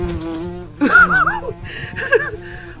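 A voice imitates a wasp's buzz with a wavering nasal drone that rises and falls in two short bursts, mixed with laughter and talk.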